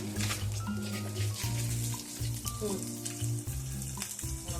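Onions and peppers sizzle and crackle steadily in a hot pan, a close, continuous frying hiss with a low hum and faint clinks underneath, while a few muffled voices come and go.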